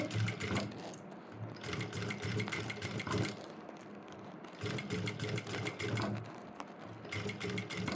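A Jack sewing machine stitches a rolled hem in two long bursts of fast, whirring stitching, close and loud, with a short pause between them and no speech.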